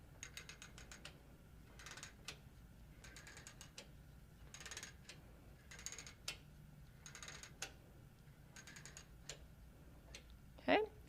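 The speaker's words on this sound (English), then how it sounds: "holding those, we're now going to turn the take-up pull to advance the fabric" Ratchet take-up pull on a Moxie XL quilting frame being turned, giving a quiet series of evenly spaced mechanical clicks, fairly close and faint, with a slightly louder knock at the end.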